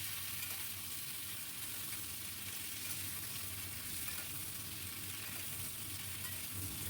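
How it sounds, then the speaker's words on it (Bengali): Potatoes and ridge gourd fry in a pan while being stirred, giving a steady, soft, continuous sizzle with faint scraping throughout and no voices. "খুব ভালো করে এবার আলু আর ঝিঙে নাড়াতে থাকবো।"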